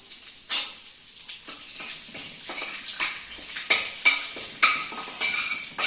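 Spices and bay leaves frying in a pan, a steady sizzle and crackle broken by repeated stirring scrapes at a roughly even rhythm, close and clear, no voices.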